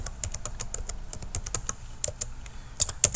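Steady typing on a computer keyboard, close and clear, with quick irregular key clicks and a few louder taps near the end, and no talking.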